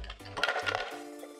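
Ice cubes dropped into a blender jar over frozen bananas, a few quick hard clatters and clinks close by, followed by a brief lingering rattle as they settle.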